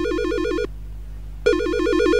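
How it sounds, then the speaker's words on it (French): A phone ringtone in Silent Hill Shattered Memories plays loud and close as a rapid warbling electronic trill, cutting off briefly before starting again. "C'est quoi cette sonnerie de fou?"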